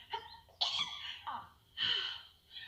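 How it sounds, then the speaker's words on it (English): A breathy sneeze builds through a couple of sharp inhales, then bursts out, with a nasal exhale trailing after; close and moderately loud. "I just needed to sneeze."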